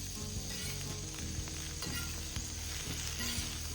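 Food sizzles steadily on a homemade flat-top griddle grill built after a Blackstone, with a continuous frying hiss and faint scraping and clinking from a spatula during breakfast cooking.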